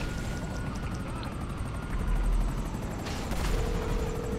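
Video game helicopter during a casino heist prep mission: a steady rotor drone with rapid blade chop runs throughout, loud and close, with a denser rumbling swell midway and no talking.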